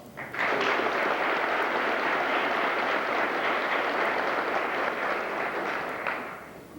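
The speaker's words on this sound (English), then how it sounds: "I think she deserves a special round of applause" A crowd at a 1986 school graduation applauds steadily for several seconds, a dense wash of many hands clapping that starts abruptly and tapers off at the end.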